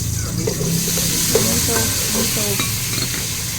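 Tomato goes into a simmering pot of pork sinigang, a steady sizzle and stirring clatter with a few soft knocks and splashes, close and fairly loud.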